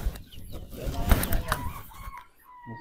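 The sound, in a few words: ready-to-lay layer chickens on a chicken farm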